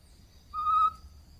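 A bird-call whistle imitating the song of the azulão (blue grosbeak), a single short clear pure tone held briefly, close and alone against a quiet background.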